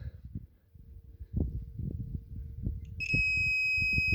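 A multimeter on continuity setting beeps with a steady, loud tone as its probe touches the top of a non-resistor spark plug, the tone starting partway through and holding over low handling noise.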